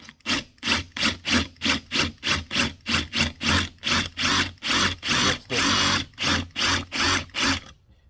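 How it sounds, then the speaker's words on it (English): A power drill drills out rivets on a 1949–51 Ford vent window in steady, repeated bursts, about twenty short whirring pulses in a row, loud and close, with a slightly longer burst near the middle. "pick a drill that it looks like it fits these rivets to drill them out"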